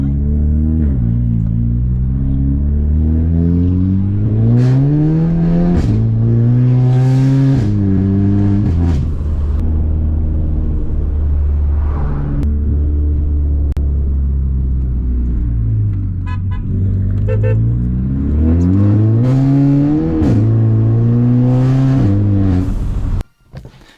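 Volkswagen Scirocco fitted with a sports catalytic converter exhaust revs repeatedly, engine pitch rising and falling in loud, close surges over a continuous rumble, with a brief cut at the end.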